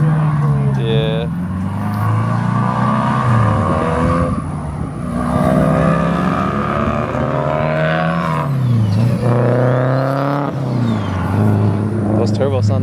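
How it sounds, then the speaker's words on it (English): A turbocharged car revs at a car meet, its engine rising and falling in repeated pulls that run close and loud through the whole stretch, while people talk over it. "Those turbos sound nice."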